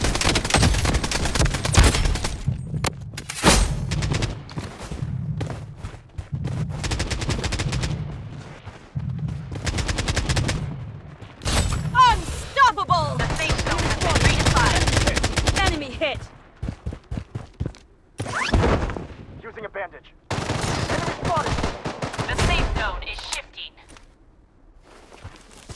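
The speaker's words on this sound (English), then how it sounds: "Enemy spotted! Taking fire!" AK47 fire in the shooter Blood Strike, loud rapid bursts and fusillades at close range broken by short pauses, mixed with footsteps and in-game voice callouts.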